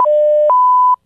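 A collect-call prompt plays two clean electronic beep tones, a lower one of about half a second followed by a higher, slightly longer one, loud and isolated against silence, then a brief faint blip.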